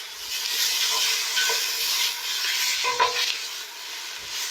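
Shallots and onion fry in a pan for French-style mussels, giving a soft, close sizzle and hiss with occasional utensil scrapes as they are stirred, and no one speaking.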